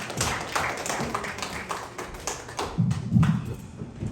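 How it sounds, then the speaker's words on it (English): Comedy club audience clapping between acts, a dense patter of many hands with a louder burst of applause near the end, no talk over it. "Clap it up some more."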